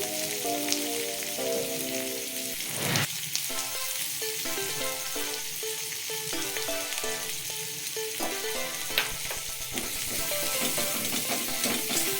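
Paneer curry base fries with turmeric in a pan, a continuous soft sizzle under a steady musical background, with occasional sharp stirring clicks.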